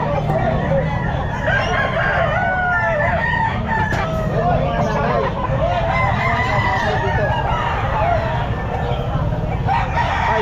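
A sweater gamefowl rooster crows repeatedly amid a busy pet market, with other roosters and fowl clucking and crowing nearby over a constant crowd din, and people talk throughout.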